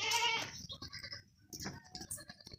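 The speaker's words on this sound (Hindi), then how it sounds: "ये मेरी तरफ दौड़ कर आ गया है ये बकरा" Goats bleat on a farm among nannies and kids, one loud nearby bleat at the start followed by softer scattered bleats and rustling, fairly faint overall.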